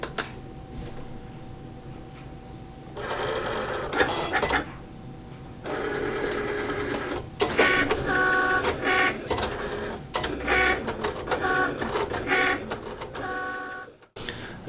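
A Cricut cutting machine slices iron-on vinyl on the everyday iron-on setting with extra pressure, giving repeated mechanical whirring and buzzing passes in bursts, near and steady, with brief pauses between carriage movements.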